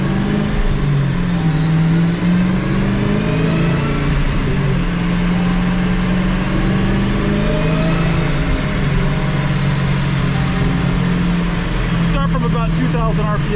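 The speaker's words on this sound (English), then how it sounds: "So we're going to go ahead and do another pull here" A Dodge Challenger SRT Hellcat on a dyno roars loud and close under heavy load, its engine pitch climbing steadily through a long pull before cutting off abruptly with crackling at the end.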